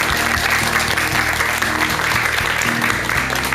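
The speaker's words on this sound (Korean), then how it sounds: "우리 박사님께 큰 박수 한번 좀 부탁드릴게요." A studio audience gives a loud, sustained round of applause for a doctor at the close of a Korean talk program on Buddhist teachings, the dense clapping continuous and close throughout.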